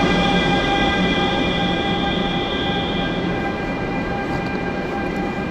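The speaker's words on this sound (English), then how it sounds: "Hell yeah, we're on an old school train in China." Steady, loud rumble and clatter inside an old train running in China, with a continuous rolling drone and faint high whine throughout and no talking.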